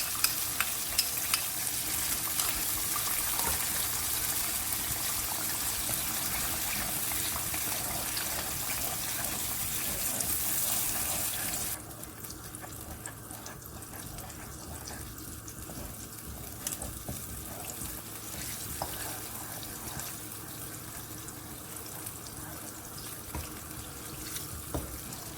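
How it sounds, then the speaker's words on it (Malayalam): Water rinsed from a mixer jar pours into a sizzling mushroom mutter masala in a pan, a steady hissing gush for about twelve seconds, then softer bubbling and frying that continue to the end, with no voices. "ഇതിലേക്ക് നമ്മൾ മിക്സിയിലെ ബാക്കിയുള്ളതൊക്കെ കൂടെ ഞാൻ വെള്ളം ഒഴിച്ചിട്ട് എടുത്തിട്ട് അതും കൂടെ ഒഴിച്ചു കൊടുക്കുന്നുണ്ട്."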